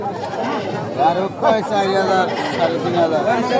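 Goats bleat repeatedly over a busy crowd of chattering voices at the Aricha livestock market in Bangladesh, the calls close and overlapping amid steady market hubbub.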